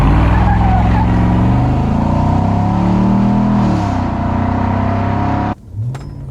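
A Silverado pickup fitted with a Pulsar LT throttle response controller accelerates hard at full throttle, its loud, steady engine roar rising in pitch for several seconds before cutting off abruptly, followed by a brief quieter idle.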